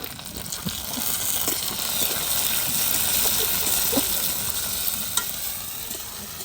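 Chopped tomatoes and green chillies hitting browned onions in hot oil for a fish curry, a loud continuous sizzle and hiss with scattered crackles and light stirring, no voices.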